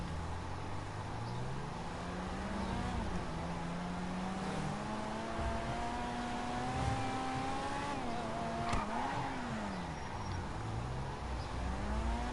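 Car engine in GTA 5 lugging and straining at low revs, a steady low drone with slowly shifting pitch that rises and dips throughout, with a brief sharp tick near the end and no talk over it.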